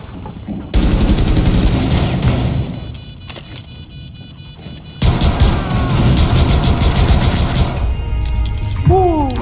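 Gunfire in the video game Rainbow Six Siege, loud bursts of rapid automatic shots and single cracks, with a brief quieter stretch in the middle before the firing resumes.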